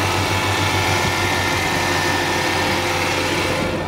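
A 2003 Hyundai Santa Fe LX with a V6 and automatic transmission idles steadily, a close, continuous low rumble with a faint engine hum and no voices.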